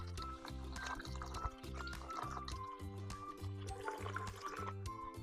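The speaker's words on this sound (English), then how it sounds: "We're gonna add water until we hit" Water is poured into sourdough starter sitting on a kitchen scale, a continuous close trickle and splash over a steady background hum.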